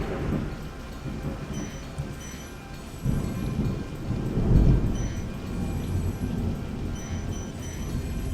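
Loud thunder rumbles through a Florida storm, with low rolling booms that swell toward the middle over steady rain noise and no voices.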